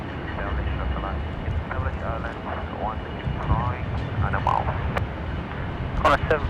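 A Boeing 777 freighter taxis after pushback from the southern international apron at Sydney Airport, its engines producing a continuous broad roar at moderate distance, with radio chatter and talk over it.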